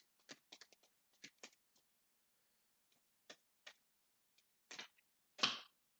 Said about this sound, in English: let's shuffle this deck here.